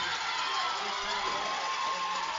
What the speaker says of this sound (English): their crowd goes wild